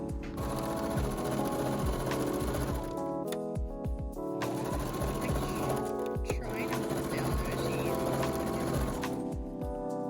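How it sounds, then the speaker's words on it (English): A sewing machine stitching dress sleeves for a Hamilton-inspired Peggy costume runs in steady continuous bursts, with a brief pause near the middle before resuming at a close, even level. "We began the day by sewing our sleeves, adjusting as we tried them on to make sure that they fit correctly."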